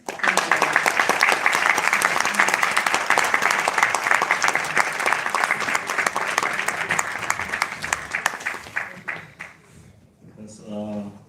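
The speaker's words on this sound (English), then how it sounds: "would you please clap again once more for First Lady Kim." Audience at an International Women's Day event claps steadily and loudly for several seconds, then the applause thins and fades as a voice begins speaking at the end.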